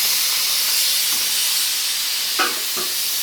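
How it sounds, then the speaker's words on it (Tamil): A pressure cooker cooking chayote for sambar releases steam through its whistle in a loud, continuous hiss. Two soft knocks come near the end. "இது வந்து ஒரு விசில் வந்துடுச்சு. இதில் ஒரு விசில் போட்டால் போதும்."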